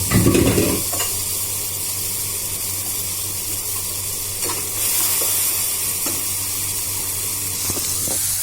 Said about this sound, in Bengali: সর্ষেটা ভাজা ভাজা হচ্ছে